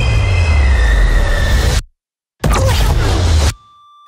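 A passenger train rolls loudly past in a steady roar with wheel squeal, cuts out abruptly, then returns briefly before stopping, leaving a faint steady tone.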